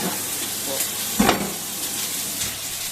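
Food frying in a pan at home, a steady sizzle running throughout with a brief louder burst of crackle near the middle, close and moderately loud.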